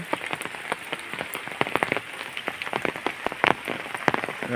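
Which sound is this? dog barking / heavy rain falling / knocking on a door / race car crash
heavy rain falling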